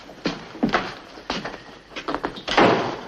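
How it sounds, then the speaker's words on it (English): A door closes with several heavy thuds and knocks in an army orderly room, loud and close, with no talk over it. "Shut the door."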